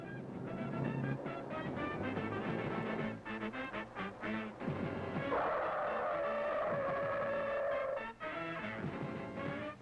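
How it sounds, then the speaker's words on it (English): A Chevrolet Vega braking to a stop from 30 mph; a sustained tire squeal rises in the middle, with engine and road noise throughout, fairly loud. "On the Vega's first run from 30 miles per hour,"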